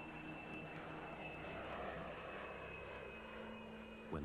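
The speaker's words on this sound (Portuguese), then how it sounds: "os esperados aviões de caça chegaram" Fighter jets fly overhead at night, giving a steady, loud, continuous roar with a sustained engine whine that holds evenly throughout.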